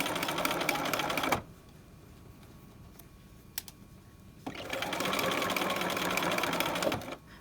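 A sewing machine fitted with a regular presser foot stitches in two bursts, a rapid close whirring chatter that stops for a few seconds of quiet with faint clicks before starting again.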